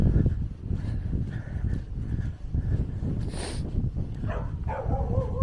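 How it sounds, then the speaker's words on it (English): A couple of puppies on a working farm in Wales bark from a short way off. Their barks are partly buried under strong gusting wind noise. "Oh, a couple puppies not too happy with me."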